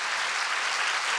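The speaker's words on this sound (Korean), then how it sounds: "다시 한번 저 좋은 강연에 대해서 박수 한번 부탁드리겠습니다." A university lecture hall audience claps after a special lecture by Ban Ki-moon on the climate crisis, marking Korea University's engineering college anniversary: dense, even applause from many hands, steady and full for the whole stretch.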